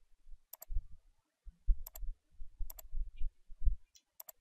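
Sharp, isolated computer mouse clicks, five in all at irregular spacing, close and dry, over faint low desk thumps and rustle, while someone works in Photoshop and IconWorkshop.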